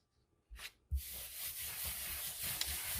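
Glued paper being burnished by hand in a scrapbooking craft: a brief scuff, then steady soft rubbing strokes with a low rhythmic swishing texture, quiet and close, with no talk.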